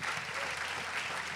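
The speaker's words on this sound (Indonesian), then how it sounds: "Tepuk tangan dulu." Audience applause at a panel talk event; a steady, dense crowd of clapping, even and continuous, filling the short stretch.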